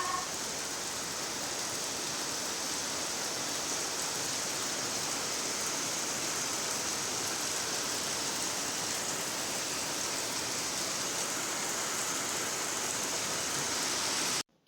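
Steady, dense rain pours down in a village, a constant even hiss of drops hitting surfaces that runs unbroken and alone until it cuts off abruptly at the end.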